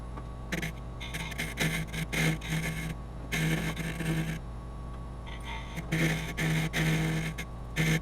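A cutting edge shaves a lump on a maple burl in repeated rough scraping strokes, each lasting about a second, close and steady over a constant low hum.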